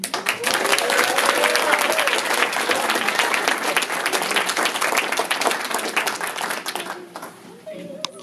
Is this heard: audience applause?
yes